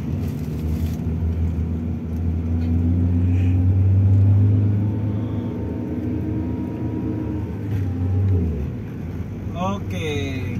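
A Proton Exora manual car with a replacement clutch climbing a steep hill in gear, its engine a steady low droning rumble that rises and falls, heard under someone talking.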